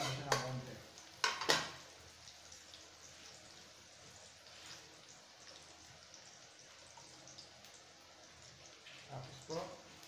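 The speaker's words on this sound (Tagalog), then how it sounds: "Ibrown lang po natin ganda yung bawang para mo masarap." Chopped garlic being browned in a pan for chicken adobo, with soft sizzling, clinks of a utensil against the pan near the start and end, and a voice talking over it.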